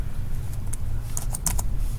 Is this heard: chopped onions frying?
no